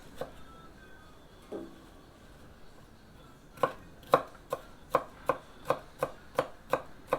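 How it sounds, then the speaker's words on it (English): Sharp knife chopping vegetables for Dutch oven baked beans on a board outdoors, a few scattered cuts followed by a quick, steady run of about ten crisp, evenly spaced thuds, close and clear. "I'm just going to cut all this up, chop it up real quick, throw it in this pot."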